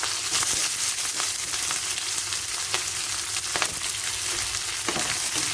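Cashews and raisins sautéing in a pan for a capsicum masala, a constant close bright sizzle with occasional scraping stirs of a spoon, no speech.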